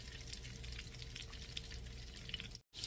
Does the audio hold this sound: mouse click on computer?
no